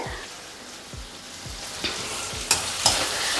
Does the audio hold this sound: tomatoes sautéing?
yes